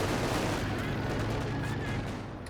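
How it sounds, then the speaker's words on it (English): Mortar and grenade explosions in a multiplayer war video game tournament, a dense rumbling barrage of blasts and gunfire that fades slightly toward the end. "A mortar pit. Nade coming in also from the intersection."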